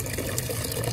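Water running into a bucket as it fills, a steady, soft splashing rush close by for a moment, with no talking.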